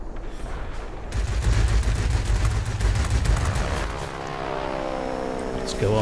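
Rear machine guns of an ME 410 Hornisse aircraft firing in World of Warplanes: a rapid rattling burst of gunfire over a roaring engine drone, then the engine alone with a rising whine.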